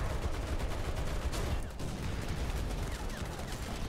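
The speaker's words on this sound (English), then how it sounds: "Panzer 3E is, again, giving away his position by firing his machine guns" Machine-gun fire from a Panzer III E tank in War Thunder, a dense continuous crackle of rapid shots that holds loud and steady throughout, with only a brief dip in the middle.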